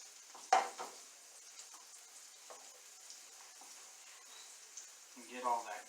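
Zucchini and mushrooms fry quietly in a pan and are stirred with a spatula, producing a soft sizzle with a sharp scrape near the start and more scraping near the end.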